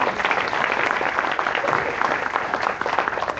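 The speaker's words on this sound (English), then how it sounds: "Go ahead and applaud." A dinner audience at an award event in Tyler, Texas claps together in a steady, dense wash of applause, close and even for the whole stretch.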